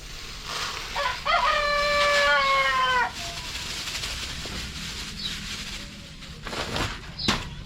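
Breeder chickens gather around their feed while a rooster gives one loud, close crow lasting about two seconds, followed by softer scattered clucks and rustling.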